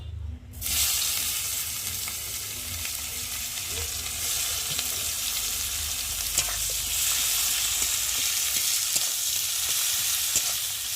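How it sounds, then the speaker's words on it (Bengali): Onions tipped into hot oil in a kadai wok for a fish curry fry with a loud, dense, continuous sizzle that starts abruptly and holds steady throughout, with no talking. "আর এখন আমি দিয়ে দেবো পেঁয়াজ, পেঁয়াজগুলোকে দিয়ে ভালো করে ভেজে নেব।"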